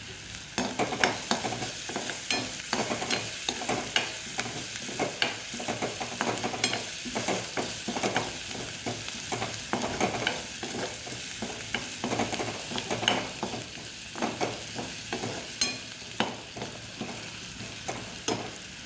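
Green chillies frying in a pan with oil, a steady close sizzle broken by frequent crackles and spatters while being stirred, with no talking throughout.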